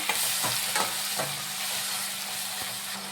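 Onions and tomatoes fry in a pan on the stove, giving a steady close sizzle while a spoon scrapes and stirs through them in several distinct strokes.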